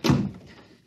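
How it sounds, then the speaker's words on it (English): Heavy door swung shut as a radio-drama sound effect in a science-fiction play, a single close, deep thunk with a short rumbling decay and no voices. "Now, help me close the door."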